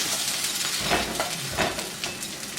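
Chicken nuggets fry in a pan, making a dense, steady sizzle with faint scraping and stirring bursts, close and moderately loud, no voices.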